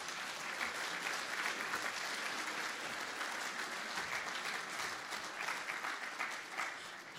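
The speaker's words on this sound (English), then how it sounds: "So give yourselves a round of applause." Students applaud at an education and training board awards ceremony. The crowd claps in a steady, even wash that is continuous and moderately distant throughout, with no voices over it.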